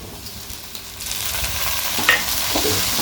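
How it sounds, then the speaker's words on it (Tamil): Tomatoes sauté with softened onions in a pan for a tamarind bitter gourd curry, a close, steady sizzle with scraping stirs and a few sharper clinks of a spatula against the pan, no talking. "இப்போ நம்ம தக்காளி போட்டிருந்தோம் இல்லையா, அதுவும் நல்லா வதங்கிடுச்சு"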